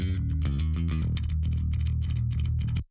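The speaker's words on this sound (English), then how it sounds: "Bass sounds like this." A soloed metal bass guitar track from a mix plays a fast, chugging riff of short, punchy notes with a gritty, heavy low end, loud and alone until it stops abruptly.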